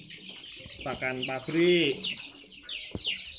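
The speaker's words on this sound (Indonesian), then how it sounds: "Ini umur ayam umur 21 hari." Chickens 21 days old on a small farm give soft clucks and chirps close by, partly under a man's brief speech.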